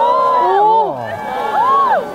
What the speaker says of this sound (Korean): 알아들을 수 없는 함성만이 가득합니다